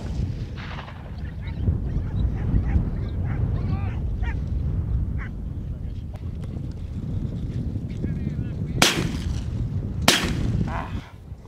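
Two sharp, loud shotgun-like blasts ring out near the end during an outdoor hare hunt, heard over steady wind and field noise with voices talking in the background.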